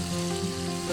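Dried fish dropped into hot oil in a wok with five-spice seeds and dried chilies, for a bamboo-shoot fish curry, sizzles loudly and steadily in a short burst without talk.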